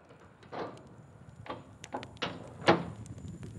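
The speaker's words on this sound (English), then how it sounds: "the mouse quickly opened the door to let Thumbelina in" A door opening as a sound effect in a snowy fairy-tale scene, heard as a short series of distinct creaks and knocks, the loudest near the end, against a quiet background.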